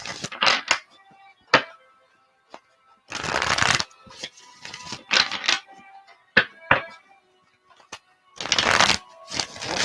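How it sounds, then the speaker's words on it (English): Tarot cards are shuffled by hand in repeated bursts, crisp riffling rushes separated by short pauses and soft taps, close and fairly loud. "Let's shuffle the cards more."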